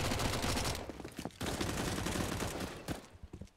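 Dense, continuous gunfire from a Counter-Strike match on the Inferno map, with a Mag-7 shotgun in play; rapid overlapping shots fill the clip loudly with only brief lulls, no speech.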